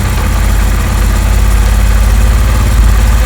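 A Honda CD 70 motorcycle engine idles loud and close with a steady, even thrum during carburetor mixture adjustment, holding a fast idle with no voices.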